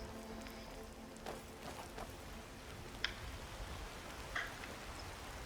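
Soft, steady rainfall hisses in the Skyrim video game, faint and continuous, with a few light ticks and taps over it.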